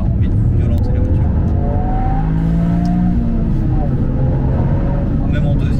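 A Toyota Yaris GR Track Pack fitted with an Akrapovic exhaust drives on a wet road, its engine a steady close drone with rising tonal whine and tyre hiss, and a voice talks over it.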